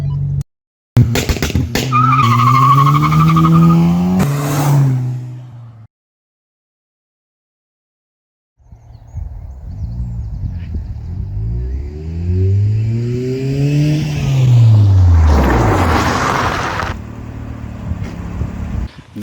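A turbocharged Nissan K11 Micra driving on a private road, with loud engine revving and long tire squeals during skids, a pause of silence, then another rising rev and skid sweeping past.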